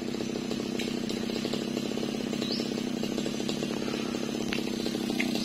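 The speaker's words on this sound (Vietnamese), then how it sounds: "Giờ chú cưa nguyên cái đọt luôn rồi" A chainsaw runs continuously at full throttle while cutting through a large melaleuca tree, including its top, a loud, steady close-up whine that never lets up.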